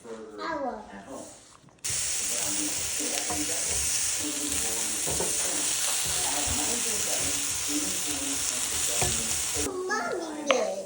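Onion and mushroom burger topping frying in a pan gives a loud, steady sizzle and hiss for most of the stretch, with voices talking underneath and before and after it.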